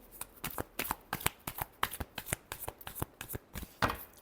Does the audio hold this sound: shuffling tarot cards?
yes